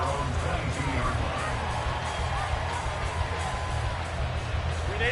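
A steady, distant roar comes from the football stadium crowd at the Chargers at Browns game, a continuous wash of murmur with no announcer audible.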